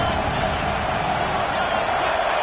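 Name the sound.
stadium crowd noise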